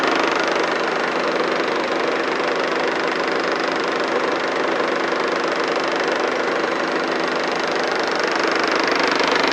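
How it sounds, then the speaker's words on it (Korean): An Infiniti Q50 diesel engine idles steadily up close, a constant rough clattering rumble with a faint ticking texture and no voices. "엔진룸 같은 경우에는 디젤 차량답게 약간 큰 소음이 약간 들리고요"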